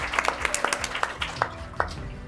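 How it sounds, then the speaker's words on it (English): Scattered clapping from a small room of attendees at a live education event, with a few distinct claps standing out over a quieter wash of applause and a low murmur. "Can we give a round of applause for each of you for being here?"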